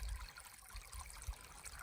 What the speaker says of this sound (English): This is the first like flowing creek since Big Creek